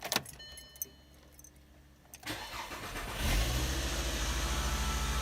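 Keys jingle near the ignition of a VW Jetta before its engine cranks over and catches, settling into a loud steady idle heard from inside the car.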